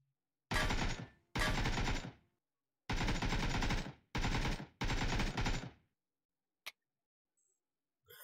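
Virtual firearms fire at a VR shooting range, heard as five loud bursts of rapid shots with short gaps between them, then a single click and quiet once the gun runs empty.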